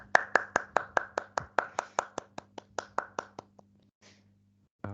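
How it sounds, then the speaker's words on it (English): Sharp, evenly spaced claps from what sounds like a single pair of hands rather than a full audience, following a group presentation in an English class meeting; about twenty crisp strikes over four seconds, then quiet. "Let's give applause for Group 2."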